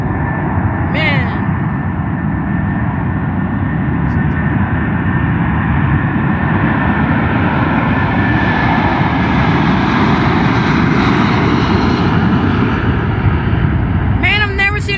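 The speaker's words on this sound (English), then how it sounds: "Man, I've never seen a 747 take off out of here." A Boeing 747-400 jet roars through its takeoff at San Diego airport, a loud, continuous, rumbling engine noise that swells and holds steady throughout, close and overwhelming.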